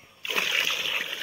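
A bucket splashes into water deep in a village well, a sudden close splash and slosh that starts abruptly and then settles into churning.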